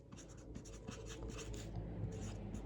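Hand-writing a plant label for an Oxheart tomato while potting up plants, a soft continuous scratching of pen on label with small repeated strokes, close and quiet, no talking.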